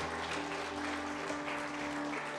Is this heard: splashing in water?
no